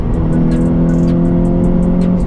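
A Honda Civic Type R FN2 fitted with an HKS intake and Tegiwa exhaust drones steadily at a constant engine note from inside the car, loud and close, with faint ticking over it.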